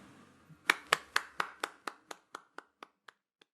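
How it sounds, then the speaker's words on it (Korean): Rhythmic clapping from a congregation at a Sunday church service: about a dozen crisp, evenly spaced claps in unison, close and clear, gradually slowing and softening until a final lone clap. "우리 하나님께 영광의 박수 올리겠습니다."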